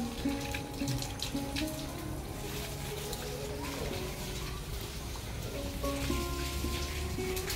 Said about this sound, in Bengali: ইটে জল দেওয়া কমপ্লিট এখন এদিকে জল দিচ্ছে